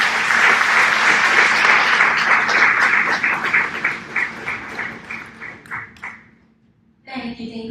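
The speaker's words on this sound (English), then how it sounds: "We can give her a round of applause one more time." An audience at a fifth grade graduation claps loudly and steadily. The applause thins into scattered claps, fades to near silence, and then a voice begins speaking.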